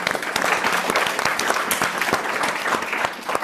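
An audience at a business coalition launch event gives a short burst of brisk applause, with close, crisp individual claps throughout.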